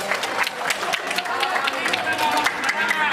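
Audience applause at an open public debate between two religious speakers, a dense, steady patter of many hands clapping close by for about three seconds, with crowd murmur underneath.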